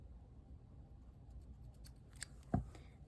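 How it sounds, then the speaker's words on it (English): Scissors snip crochet yarn: a few faint clicks, then one distinct close, quiet cut near the end against a hushed room. "And then you can just snip this piece off."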